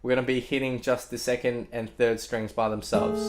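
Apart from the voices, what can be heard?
None of the usual background noises is heard.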